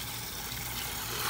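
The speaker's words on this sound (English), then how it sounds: "I'm gonna fill the bucket up" Fresh water pours steadily into a bucket for washing car wheels, a constant hissing, splashing fill, close and fairly faint, with no talk.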